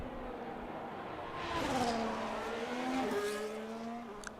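An F1 race car in the F1 25 video game, a Ferrari on a qualifying lap at the Spanish GP, drones with a high engine whine whose pitch rises and falls through gear changes, close and steady.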